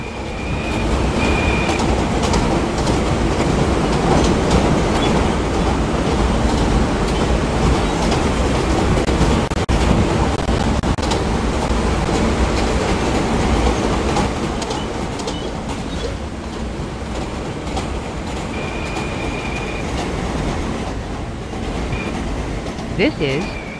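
An R160 A express subway train bound for 207th Street rumbles steadily with a rhythmic clatter of wheels on track, and short electronic chimes sound twice against the ongoing noise.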